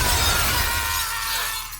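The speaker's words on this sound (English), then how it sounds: "The bridge explodes behind him. Glass rains down, shards fly like bullets." Glass bridge shattering in a Squid Game film scene: a loud, dense crash of breaking glass that starts at full force and sustains as shards rain down, then thins toward the end, with no voices.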